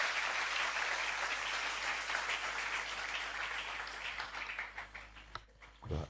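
A church convention audience applauds the Lord in sustained, dense clapping that carries on for several seconds before thinning into a few scattered claps at the end.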